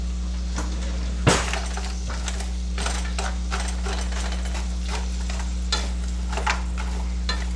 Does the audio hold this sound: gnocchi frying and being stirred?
yes